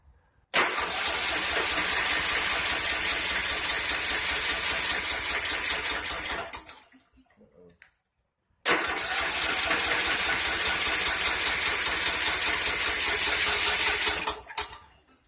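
A Kohler 17 HP engine on a 2014 Troy-Bilt Bronco lawn tractor, its choke not engaging, cranks loudly for about six seconds without catching. After a short pause it cranks again for six more seconds, still without starting.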